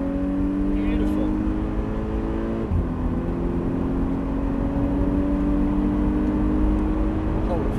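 A Volkswagen car accelerating hard on a race track, its engine note rising steadily in a loud sustained whine with a brief dip mid-way as a gear changes, and no talk over it.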